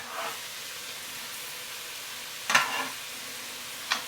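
Garlic added to shallots in a pan gives a soft steady sizzle with faint frying hiss, broken by a couple of brief stirring scrapes.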